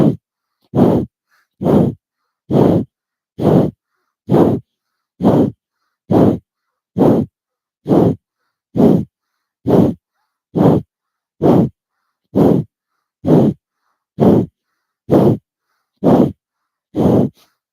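Forceful nasal exhales pumped out in a steady, even rhythm during alternate nostril yoga breathing, about seventeen sharp close bursts evenly spaced with silence between them and no talking.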